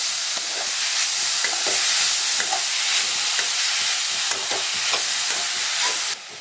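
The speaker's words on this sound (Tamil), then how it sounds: "இப்போ பீட்ரூட் சேர்த்துடலாம். இதை வதக்கிக்கலாம்." Beetroot sautéing in a pan after the onions have softened gives a loud, close, steady sizzle, broken by repeated scraping stirs at a fairly regular pace until the sound drops off suddenly near the end, with no talking.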